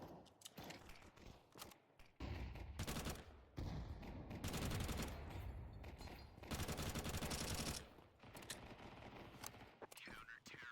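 FAMAS rifle fire in Counter-Strike, loud sustained bursts and rapid shots dominating the middle of the clip, with quieter game noise and faint voices around them.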